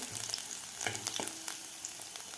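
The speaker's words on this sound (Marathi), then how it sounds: "लसूण आपल्याला व्यवस्थित फ्राय करायचं आहे." Garlic sizzles hard in a hot pan over a high flame, a loud, continuous frying hiss broken by a few stirring scrapes, with no voices.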